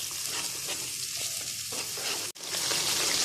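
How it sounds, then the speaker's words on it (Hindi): Blended masala paste with ginger and garlic fries for a Lahori-style chana kofta, a dense, continuous close sizzle with stirring, briefly cut off near the end before resuming. "अब हम इसके अंदर ब्लेंड किया हुआ पेस्ट ऐड करेंगे और इस मसाले को भी हम अच्छे से भून लेंगे"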